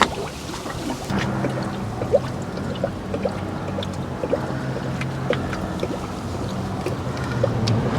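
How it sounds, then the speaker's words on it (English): Coolant drains down into a Toyota 4Runner radiator with soft gurgles and small splashy blips over a low hum, close and quiet, no voices. "Okay, we'll just let that gurgle down."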